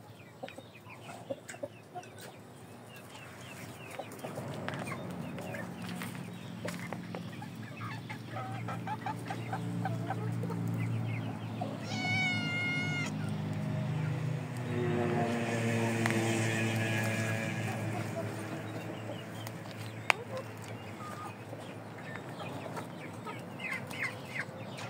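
Indio Gigante chickens clucking and calling in a flock, repeated cackles and clucks near and far over about twenty-five seconds, with one drawn-out crowing call partway through and a steady background hum.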